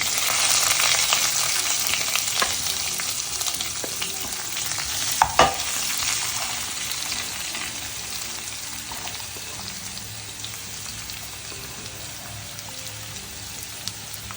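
A large, finely chopped onion fries in a pan for jackfruit seed podimas, with a loud, continuous close sizzle and one brief clatter partway through.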